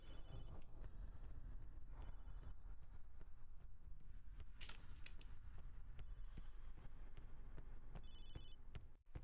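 In Resident Evil 7, a cell phone rings in repeated short electronic trill bursts at regular intervals over a low, rumbling ambient backdrop.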